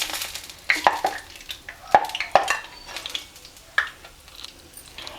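Banana fritters fry in hot oil in a pan with a soft, close sizzle, broken by several sharp clinks and scrapes as pieces are moved and lifted, with no talking.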